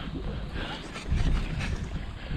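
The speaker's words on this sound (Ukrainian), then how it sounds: "Погано, конечно що вітер боковий." Steady wind blows hard across a river bank during a frosty fishing outing, roaring and buffeting the microphone in a continuous low rush that swells partway through.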